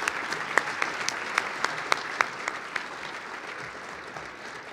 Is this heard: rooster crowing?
no